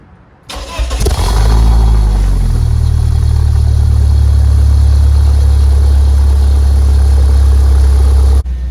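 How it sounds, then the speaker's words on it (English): A 1998 BMW Z3 with an aftermarket muffler cold starts: a brief crank, then the engine fires loudly and settles into a deep, steady, close idle rumble that runs on alone. "this is a cold startup on a 1998 BMW Z3 with an aftermarket muffler"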